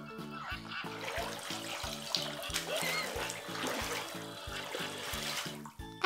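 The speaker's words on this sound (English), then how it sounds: "Let's turn on the bathtub for Bingo." Water runs from the tap into a toy bathtub for a doll's bubble bath, a soft steady trickle and splash under a looping music track with a repeating bass pattern.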